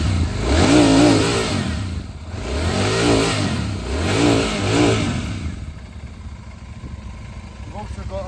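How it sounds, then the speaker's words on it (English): A 2023 Royal Enfield Super Meteor 650 parallel-twin motorcycle revs up three times in rising and falling surges, then drops back to a steady idle, all close and loud. "Now I've got a few revs you can hear how it sounds."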